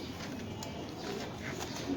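Pigeons cooing at a pigeon farm, soft repeated coos at close to middle distance over a steady low background murmur.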